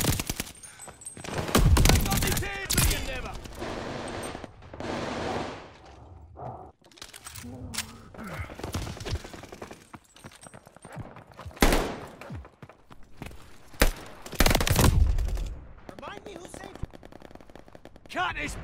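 Heavy gunfire in the Call of Duty: Vanguard multiplayer beta on the Hotel Royal map: loud, dense bursts of rifle and machine-gun fire come in repeated waves with short lulls between them, mixed with other battle noise.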